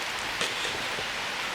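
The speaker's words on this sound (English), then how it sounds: "it is raining." Steady rain on a wet day, an even hiss of falling drops that holds at the same level throughout, with no voices.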